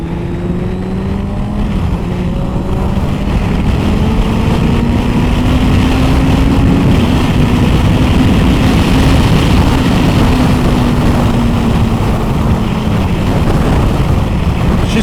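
A Suzuki GSX750F motorcycle with freshly rebuilt carburettors runs at a steady, loud, close-up drone, its pitch lifting slightly and holding, without any talk.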